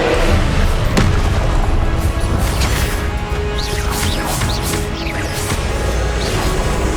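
Spell blasts and booming impacts from a Hogwarts Legacy boss battle, loud and dense, with a heavy crash at the start and repeated crackling bursts and whooshes layered through continuous game noise.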